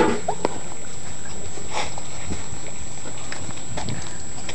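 Six-week-old mini retriever puppies shuffle and scamper nearby, with soft whimpers and light padding sounds over a faint steady background hum.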